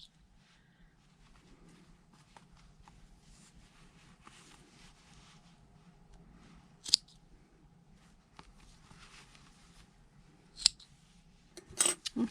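Scissors snipping crochet yarn ends on a handbag, a few sharp isolated cuts spaced seconds apart, the last ones clustered near the end, over a quiet room hush with no talking.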